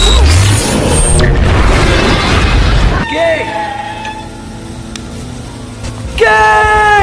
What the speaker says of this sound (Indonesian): lalu terjadilah sebuah ledakan dahsyat